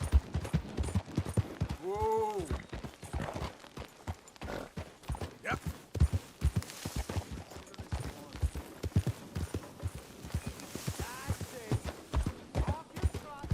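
Horse hooves clip-clop steadily in Red Dead Redemption 2, a rapid rhythmic stream of close, moderately loud hoofbeats, with a whinny-like cry and bits of character voice mixed in.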